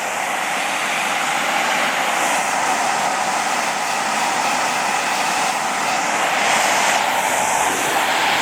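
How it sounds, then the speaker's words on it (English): A cordless lithium electric air duster and vacuum runs at a higher suction setting, a loud, steady, close-up blowing roar with a high whine that holds constant throughout. "if I turn it up higher, more suction"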